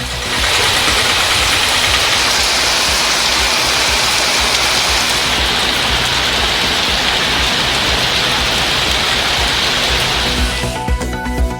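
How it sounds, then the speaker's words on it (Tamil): Heavy rain in Pandalur, Nilgiris district, pours as a dense, unbroken hiss that stays loud and steady throughout, with no voices. "நீலகிரி மாவட்டம் பந்தலூர் மற்றும் சுற்றுவட்டார பகுதிகளில் கனமழை."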